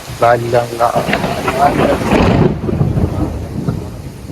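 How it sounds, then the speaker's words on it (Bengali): A voice speaks over a deep rumble of thunder and steady rain noise during a sudden afternoon downpour in a village, the rumble swelling and fading as the rain continues. "দুপুরবেলা হঠাৎ বৃষ্টি শুরু হয়েছে আর ম্যাগেও ডাকতে আছে"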